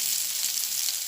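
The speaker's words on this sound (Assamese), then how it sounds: "অলপমান এনেদৰে ৰঙা হোৱালৈ ভাজি ল'ব।" Chopped cauliflower and tomato frying in hot oil until browned, a dense continuous sizzle heard up close with no breaks.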